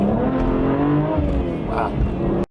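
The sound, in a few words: BMW M2 accelerating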